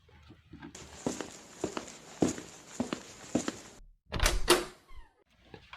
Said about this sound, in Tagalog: Bubuksan ko lang ang pinto.